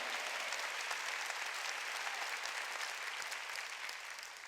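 A church congregation at a Wednesday worship service claps together in sustained, even applause that tapers slightly toward the end.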